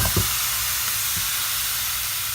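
Chicken placed on a hot skillet gives a loud, steady sizzling hiss that fills the whole moment, with a couple of soft contact thumps at the start and no talk.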